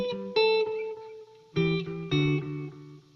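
Electric guitar chords played through an MXR Carbon Copy analog delay pedal for ambient swells. Two pairs of distorted strums ring out, each decaying with a soft repeating echo tail, with no talk.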